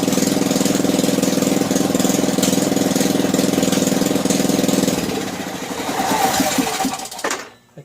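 A Honda EU3000is generator engine runs with a loud, close, steady rattling drone that wavers and drops off as it sputters down near the end.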